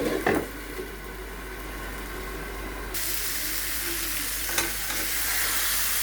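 Mixed vegetables frying in a pan make a steady, close sizzle that jumps to a brighter, louder hiss partway through, with a couple of faint stirring knocks and no speech.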